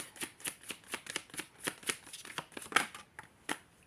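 A deck of tarot cards is shuffled and handled in a quick, regular series of crisp riffling flicks, close and fairly quiet with no talking.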